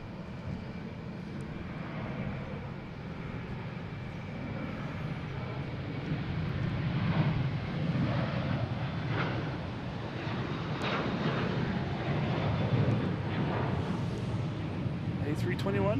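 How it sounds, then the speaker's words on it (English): An American Airlines Airbus A321, flight 2661, takes off from Boston Logan toward Dallas Fort Worth, its jet roar building from a distance into a sustained rumble mixed with wind noise and occasional voices. "Here from American Airlines taking off to Dallas,"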